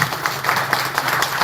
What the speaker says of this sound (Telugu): ఒకసారి గట్టిగా చప్పట్లు కొడితే